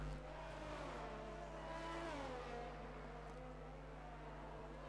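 A McLaren race car in a racing video game, running on soft tyres on an outlap just out of the pit lane. The engine holds a steady, sustained drone with gently rising and falling pitch at moderate distance.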